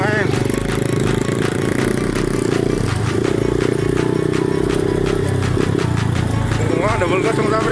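An ATV engine on a tea plantation drones steadily and loudly with a rough, buzzing idle and rev, while people talk over it throughout.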